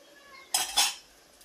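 A metal lid is set onto a pot of masala rice, giving two quick close clanks within about half a second in an otherwise quiet kitchen.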